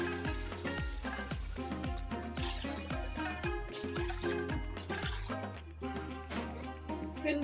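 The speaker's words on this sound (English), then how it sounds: "We will add 4 glasses of water." Water is poured into a pot of frying chicken pieces with chicken cubes, producing a run of splashing, bubbling hits and sizzle over a steady tonal hum, ending in a quieter simmer.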